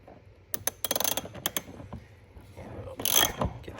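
Ratcheting clicks from a socket extension loosening the 17mm bumper bolts on a Ferrari F430, in short bursts with pauses, close and moderately loud, then a brief louder scrape near the end.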